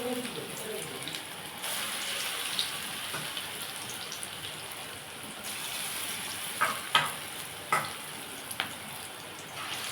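Pakoda of prawn heads and lentils frying in hot oil, a steady sizzling hiss through the whole stretch, with a few sharp clinks of a utensil near the end.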